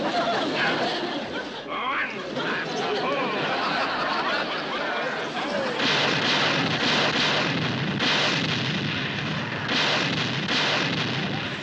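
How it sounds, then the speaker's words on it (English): Dull booming blasts and splashing water roar across a noisy scene, with voices chattering and laughing over the churning din. "Look at them explosions throw that water in the air."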